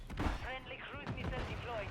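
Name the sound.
gunfire hitting the player in a video game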